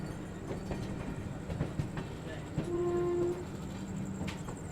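An Indian Railways passenger train, the Mahabodhi Express, rumbles along in a steady low roar heard from on board, with a brief tonal whistle or squeal partway through.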